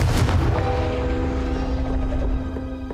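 A Confringo fire spell bursts in the Hogwarts Legacy video game, a deep booming blast right at the start that rumbles and rings out as it fades over the next couple of seconds.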